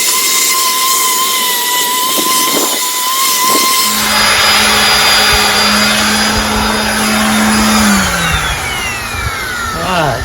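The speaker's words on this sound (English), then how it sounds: "I'm gonna hit it with a 220 grit sander" A power sander with 220 grit paper works on a vintage 1961 18 HP Evinrude outboard motor, whirring up loudly with a steady droning motor tone that runs close by and then winds down at the end.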